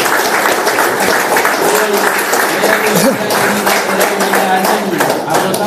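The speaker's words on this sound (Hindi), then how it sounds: "बाद में ताली होना चाहिए यार, बाद में ताली होना चाहिए।" An audience at a tourist committee meeting breaks into dense, sustained applause that fills the whole stretch, with some voices audible under the clapping.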